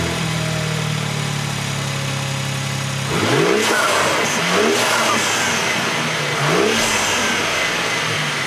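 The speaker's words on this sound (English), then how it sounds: "Let's start it up." A BMW G80 M3 engine cranks and fires up, then revs in three rising and falling swells over a steady idle, loud and close with no talking.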